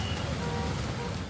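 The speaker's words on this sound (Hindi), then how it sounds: "बारिश हो रही मूसलाधार।" Heavy monsoon rain pours down in a steady, dense wash of noise with no break, loud and close throughout.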